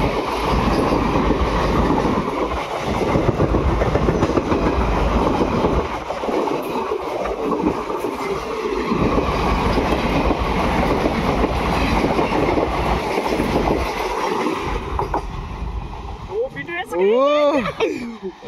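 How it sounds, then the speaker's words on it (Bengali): A long passenger train rolls past close by, continuous rumble and clickety-clack of wheels over rail joints, loud and steady, ending with squealing wheel tones as the cars go by; voices are faintly mixed in. "ভাই কত বড় রেল এটা।"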